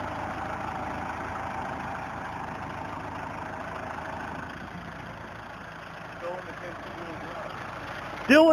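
A 2018 Kubota L4701 tractor with 34 hours, stuck in two-wheel drive, idles steadily with a low diesel rumble throughout, a brief clunk midway and a louder surge at the very end, with voices talking over it.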